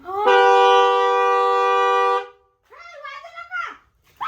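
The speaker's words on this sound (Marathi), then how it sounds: "ती हॉर्न वाजू राहिली ती" One long, loud vehicle horn blast holds steady for about two seconds, then a voice speaks briefly afterward.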